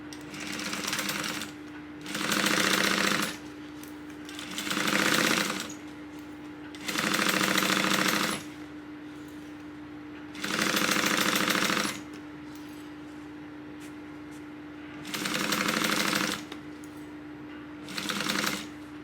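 A sewing machine stitches a tote bag seam in seven separate bursts, each a loud, fast mechanical whir lasting a second or two, with short pauses between them and a steady electrical hum underneath.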